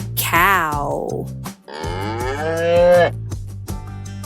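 A cow moos twice, long, loud and close, the calls sliding in pitch, over a steady musical backing in a children's farm-animal counting song.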